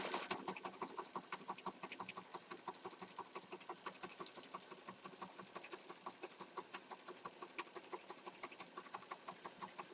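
A sewing machine stitches a folded junk journal page, its quick needle strokes forming an even, rapid mechanical rhythm that runs steadily and fairly quietly throughout.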